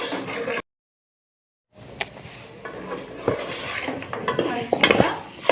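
Onions frying in a pan for gongura chicken, a metal spoon scraping and clinking against the pan as they are stirred over a soft sizzle, with a brief silent gap near the start.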